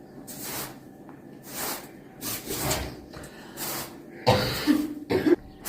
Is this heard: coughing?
yes